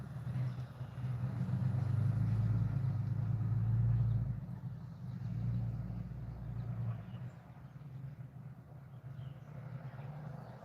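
A big truck's engine rumbles steadily at low pitch, swelling and easing slightly over time, a continuous heavy drone with no voices over it.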